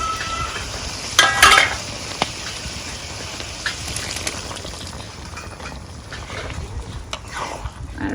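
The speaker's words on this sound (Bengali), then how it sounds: "মাছ দিয়ে দিচ্ছি মশলা কষাই নিচ্ছি" Fish sautés with tomato and spices in a pan, a soft, steady sizzle with a few brief clinks and stirring scrapes near the start.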